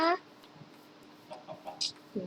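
Chickens in the Minecraft video game give several short, soft clucks over a few seconds, with quiet background noise and brief sounds in between.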